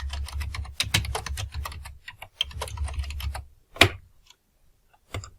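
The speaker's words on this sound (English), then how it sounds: "we're just going to type in his name here." A name is typed on a computer keyboard in rapid runs of close, crisp key clicks, pausing briefly midway, ending with a single louder keystroke and a final tap.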